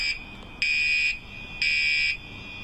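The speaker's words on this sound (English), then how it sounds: "residents of an apartment building were subjected to hours of alarm going off." An apartment building fire alarm sounds in shrill high-pitched electronic blasts, two long tones each about half a second with short gaps, steady and loud over faint background noise.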